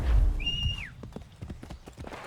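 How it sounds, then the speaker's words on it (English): A summoned horse in Assassin's Creed 3 lets out a whinny, then its hooves clip-clop in a quick galloping rhythm, close and clear, with no talking. "let me go ahead and summon a horse"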